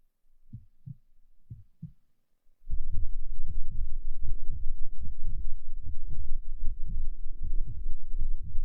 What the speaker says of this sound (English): Honey, your heartbeat is so loud.